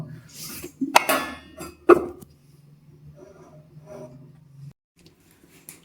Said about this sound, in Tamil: ஒரு அந்த பிளேட்டை போட்டு மூடி வச்சிடலாம்